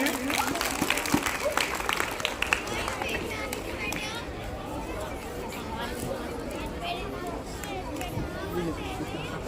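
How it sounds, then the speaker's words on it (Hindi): Applause for a child at a school quiz, a sustained round of clapping from a gathered crowd of children and adults, loud and steady throughout, mixed with chatter and voices. "सर प्लीज जोरदार ताली हो जाए बच्चे के लिए।"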